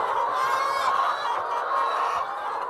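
A dense flock of about 470 laying hens on a poultry farm clucks and squawks continuously, a loud overlapping chorus filling the space with no talk.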